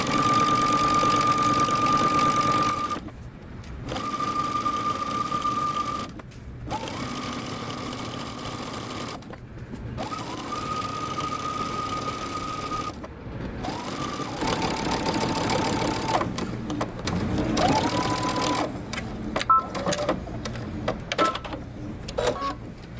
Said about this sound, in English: we're going to go to the machine and we're going to stitch close to the folded edge